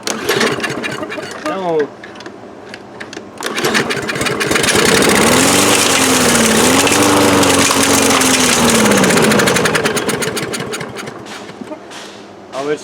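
An old Toro lawn mower with a dirty carburetor sputters and catches, its engine note rising and wavering for several seconds before fading back to clattering, with someone speaking briefly over it.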